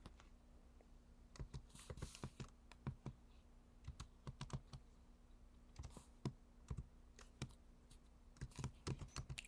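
Keys on a computer keyboard typed in quick irregular bursts while entering HTML code for a Bootstrap card header, crisp close clicks over a steady low hum, no talking.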